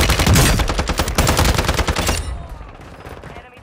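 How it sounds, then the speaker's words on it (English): Gunfire from the video game Call of Duty Warzone on Ashika Island, loud rapid automatic bursts up close for about two seconds, then fading echoes and quieter shots. "He's shooting at me."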